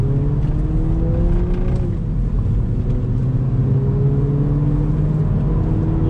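A 2019 Mini Cooper S pulls out of a corner under throttle, its engine note climbing in rising harmonic sweeps through the gear, loud and close over road and tyre noise, with no talking.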